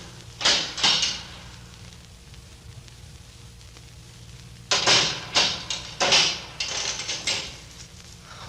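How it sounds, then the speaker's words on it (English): In a 1944 radio drama, a door is unchained and opened: a few clinking rattles, a pause, then a quick run of chain clatters and latch knocks close by with no talk. "They're unchaining the door."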